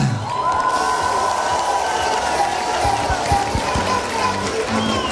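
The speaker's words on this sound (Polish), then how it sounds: "Wielkie brawa!" A concert audience in Ostróda applauds and cheers, a dense sustained wash of clapping and crowd noise with a faint held tone running beneath it.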